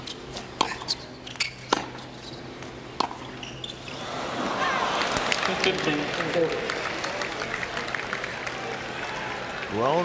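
A US Open tennis crowd in 1991 at a Jimmy Connors versus Patrick McEnroe first-round match lets out a groan that swells into a broad murmuring reaction and stays raised, after a few sharp ball hits, under a commentator's voice.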